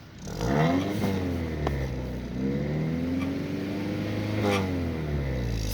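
A car engine revs steadily to about 3000 rpm during a brake test, a loud, close, sustained drone with rising and falling pitch sweeps and no talking.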